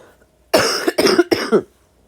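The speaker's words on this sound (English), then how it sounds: "I apologize for coughing." Three harsh coughs in quick succession, close and loud, followed by quiet.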